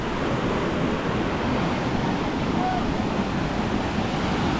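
A waterfall near Warakapola roars in a steady broad rush where people are bathing, a continuous close wash of falling water that fills the whole span.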